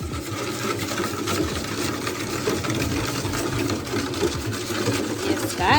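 Strawberry jam is whisked into Easter bun mix in a bowl, giving a steady, dense, busy scraping and swishing that runs without a break.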